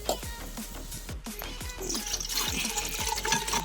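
Water is poured from a vessel into a cooking pot for chicken dum biryani, outdoors in a cashew orchard; a close run of splashing, gurgling pours with rising filling tones, growing steadier and fuller toward the end.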